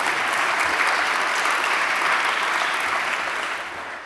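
Audience applause at a city address, a steady wash of clapping from a large crowd that holds for several seconds and then begins to fade.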